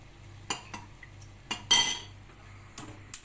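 A utensil scrapes and clinks against a metal pot in a few irregular strokes, stirring in sugar while making artichoke dolma, close by, with no voices.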